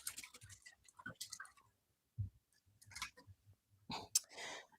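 Clicking from a loud computer keyboard comes in short bursts of typing, interleaved with a man's close speech and a few brief pauses.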